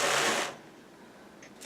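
A newly acquired wool-processing machine running Finnsheep fleece, a loud whirring mechanical burst that cuts off after half a second, leaving a quiet room before it starts up again.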